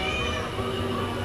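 A drawn-out creak in an old house that resembles a cat's meow, a continuous wavering tone with a steady background hum.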